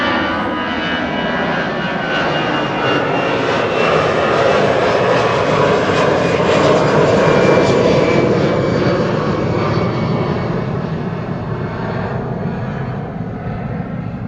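A Lufthansa jet in Star Alliance livery flies past low on approach near Amsterdam Schiphol, its engines giving a broad, continuous roar that swells slightly in the middle and holds loud throughout.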